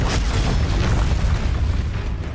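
A spell's booming explosion in the video game Hogwarts Legacy, a loud, dense low rumble that fills the whole moment and slowly tails off, with no talking.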